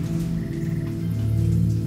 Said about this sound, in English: Shut up, frog.